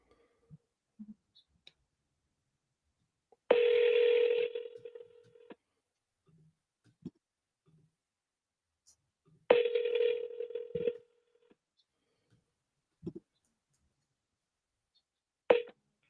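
An outgoing cold call from a telephone sounds two long ringback tones several seconds apart, then a short beep, with faint scattered clicks in the quiet gaps between.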